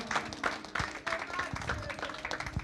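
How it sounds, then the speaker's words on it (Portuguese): A congregation claps together in a sustained burst of applause, dense and steady, with some voices mixed in underneath. "Você pode dar uma salva de palmas ao Senhor?"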